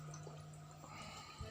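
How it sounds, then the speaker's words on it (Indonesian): Tap water pours steadily to rinse a simple homemade koi pond filter, a faint continuous splashing hiss with no talking. "kemudian kita siram pakai air keran"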